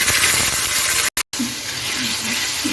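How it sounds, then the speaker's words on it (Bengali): Water splashed into ginger paste frying in a pan sets off a steady, close broadband hiss and sizzle, broken by a brief dropout, with faint gurgles after it and no talking. "যাতে না ছিটকে সেই জন্য একটু জল দিয়ে দিলাম"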